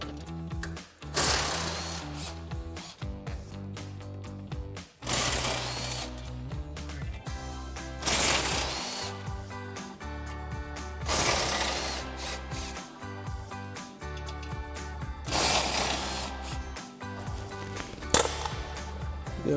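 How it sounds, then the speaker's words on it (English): Impact wrench with a 13 mm socket and extension zips out five bolts on a 2021-2024 Ford Bronco rear bumper center bracket, about four loud bursts with brief gaps, steady background hum between. "So now we'll grab our 13 mil socket on our impact."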